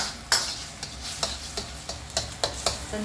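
A spatula stirs sizzling hot oil in a wok while Cantonese fried rice is being prepared, giving sharp scraping strokes at a roughly regular rhythm over a constant frying hiss, close and clear.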